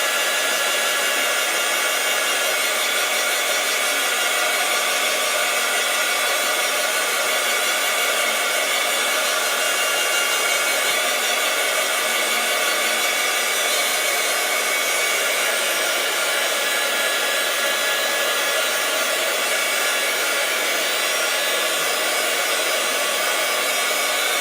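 A hair dryer drying paint on a craft box blows steadily and loudly throughout, a constant broadband whoosh with a faint motor hum and no voices.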